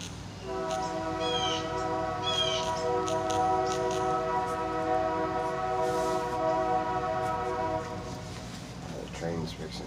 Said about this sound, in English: The train's fixing to come through.